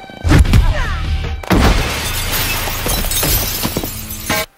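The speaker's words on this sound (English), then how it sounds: "Sharon stabs Catwoman in the leg with a piece of broken glass" Glass shattering during a fight scene in a Catwoman movie: a loud crash near the start, a second heavy smash about a second later, then scattered tinkling debris and a final sharp break at the end.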